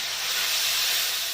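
Masala sizzles in a pan as a little water is added while cooking mutton, a steady bright hiss close by with no break.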